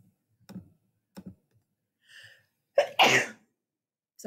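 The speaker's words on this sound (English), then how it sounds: "I'm about to sneeze." A single sharp sneeze bursts out after a few quiet taps and a faint breathy intake, close and loud against near silence.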